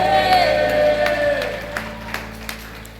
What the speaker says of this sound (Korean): 우리 주님께 감사의 박수 올려드립시다